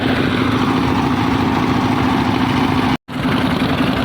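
A trawler boat's engine drones steadily and loudly while crossing the Padma river, a constant close mechanical hum with a strong tonal throb, broken only by a brief dropout near the end.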